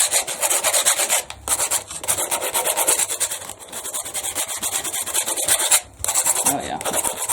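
A cut piece of belt-sander belt is rubbed by hand over a workpiece in quick, steady abrasive strokes. The rasping scrape is close and loud, with a couple of short pauses.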